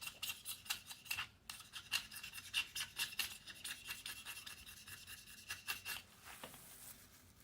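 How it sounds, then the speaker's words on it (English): A utility knife scrapes repeatedly across an aluminum vape cartridge in quick, rhythmic rasping strokes, close and fairly quiet, with no talking. "I'm going to reach in, grab my utility knife, and we're going to scrapey,"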